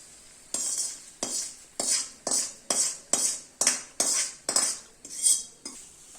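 A metal spoon stirs thin paper-poha chivda with its spiced oil tempering in a pan, making about eleven regular scraping, clinking strokes, close and fairly loud, with short pauses between them.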